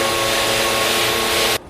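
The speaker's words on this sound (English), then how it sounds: "This vacuum kind of sucks. It's like very low powered." A low-powered vacuum cleaner runs steadily while cleaning the interior of a Ford EcoSport, its broadband whoosh and hum continuing close and loud before cutting off abruptly near the end.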